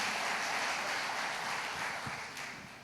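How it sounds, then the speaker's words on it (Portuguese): A church congregation applauds steadily as a dense, even wash of clapping, moderately distant and fairly faint, easing off slightly toward the end with no talk over it. "Vamos aplaudir ao Senhor pela vida"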